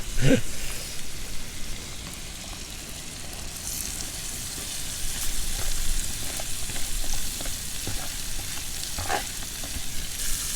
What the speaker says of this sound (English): We'll get all this sauteed up, and we'll put the corn in last because it only takes a minute to cook.